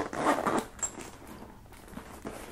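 A zipper closing on a Louis Vuitton Boulogne bag packed full, with a water bottle inside, runs in a quick close burst of scratchy pulls, then quieter rustling of the leather and canvas bag.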